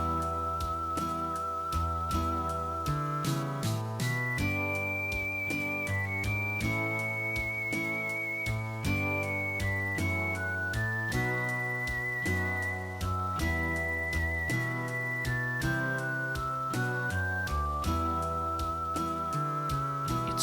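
Clean synthesized whistle melody from the Game Boy Advance version of Final Fantasy VI game music, a sustained tune over steady chiptune-style accompaniment, heard alone without talk.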